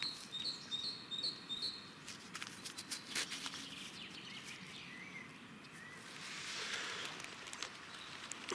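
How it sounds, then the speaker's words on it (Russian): Small birds chirp and sing in a young forest on a sunny day, faint, scattered high calls over quiet outdoor background. "птички поют."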